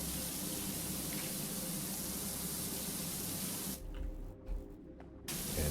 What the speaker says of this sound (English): I just do need to make sure that I spray it at approximately the right place.